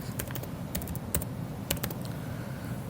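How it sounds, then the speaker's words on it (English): Rapid typing on a computer keyboard, a run of light clicky keystrokes with a few sharper taps, steady and close over a faint room hum. "So here in the search option you can type Google"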